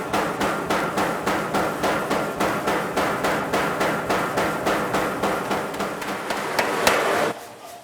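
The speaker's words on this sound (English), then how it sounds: "I'll be forging it out first on the big, heavy cast iron hammer" A heavy cast iron power hammer pounds hot metal into S-shaped curves with a fast, even rhythm of loud blows, about three per second for roughly seven seconds, before stopping.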